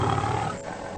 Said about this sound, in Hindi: बच्चे ने अचानक जोर से दहाड़ मारी